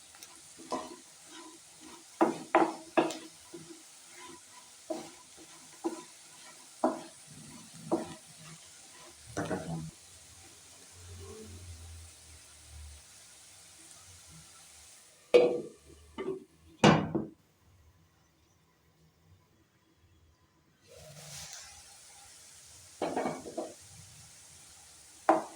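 Potatoes and garlic frying in a pan, stirred now and then: scattered scraping strokes over a faint sizzle, with a quiet pause midway before stirring resumes.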